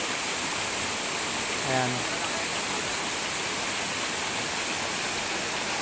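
Steady broadband rush of a waterfall at Barangay Kabugaw, constant and full throughout, with a brief spoken word partway in.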